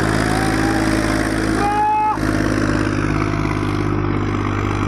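A tractor pulls a 3MP plough through a field, its diesel engine droning loud and steady close by, with a brief whining rise in pitch partway through.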